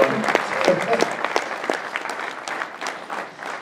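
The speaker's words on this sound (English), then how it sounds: "Round of applause for Jack Hotop." An audience at a NAMM 2015 keyboard demo claps in a short round of applause, with a voice talking over the patter of hands.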